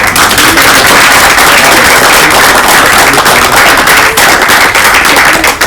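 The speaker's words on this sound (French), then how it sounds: "Donc vraiment, on peut les applaudir aussi." Loud, dense applause from an audience at a young children's school show: continuous rapid clapping that fills the whole stretch without letting up.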